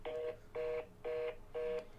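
A telephone dialing a phone number: four short, evenly spaced bursts of bright tonal beeps, each about a quarter second long with brief pauses between, heard clearly and alone.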